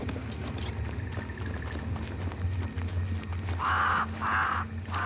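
Two loud, harsh crow caws from the game Banishers: Ghosts of New Eden come near the end over a steady low ambient bed, with a fainter call earlier in the scene.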